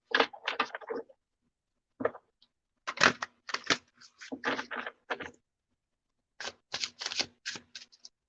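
Guidance cards shuffled by hand during a tarot-style reading, heard as bursts of papery riffling and flapping in several separate clusters with short silent gaps between them, close and fairly quiet, with no talking.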